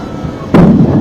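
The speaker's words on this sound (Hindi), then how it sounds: "ये धमाके की आवाज भी आप सुन सकते हैं।" A single deep explosion in Jammu booms suddenly in the middle, loud and rumbling, then lingers as a low roar over steady background noise.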